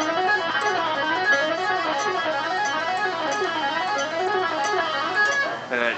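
Melodic instrument plays a nonuplet run of rapid notes, five climbing and four descending, repeated in a steady undulating pattern for several seconds, clear and up close with no talking.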